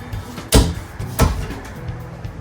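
Soft-close hardwood cabinet door in a 2026 Redwood luxury RV shuts with a muffled thud, followed by a second softer knock, close by and with no talking.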